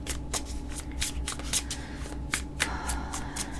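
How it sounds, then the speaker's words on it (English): Tarot card decks shuffled by hand, a fast run of crisp riffling bursts one after another, close and fairly loud against a low room hum, with no talking. "Let me just shuffle all them decks."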